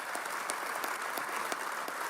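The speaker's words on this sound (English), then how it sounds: "Yes, another round of applause." Audience applause at a university press conference introducing a new men's basketball coach, a close, steady burst of many clapping hands with individual sharp claps standing out.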